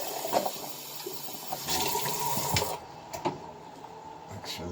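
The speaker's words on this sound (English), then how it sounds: "Rinse out your cup." Water running and splashing as a test cup is rinsed out while adjusting nutrient pH, a steady gushing flow with brief sloshes, close and fairly quiet.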